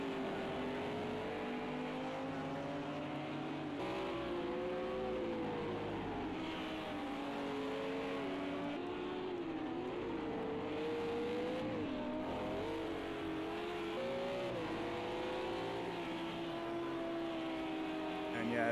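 LMP and GT3 race cars circle the Barcelona track in Project Cars 2, a steady multi-car engine drone with rising and falling pitch as they rev and pass, running under continuous commentary.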